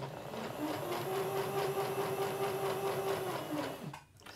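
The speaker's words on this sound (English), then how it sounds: "Stitch to the edge." A sewing machine runs a steady, fast stitch along the edge of a beaded cooling neck wrap, whirring close and loud for about four seconds before it stops abruptly.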